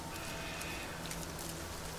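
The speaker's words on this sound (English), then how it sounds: "It's raining quite a bit." Rain falling on an alien planet in the No Man's Sky video game, a soft, even hiss of steady rainfall heard quietly and continuously with no talking.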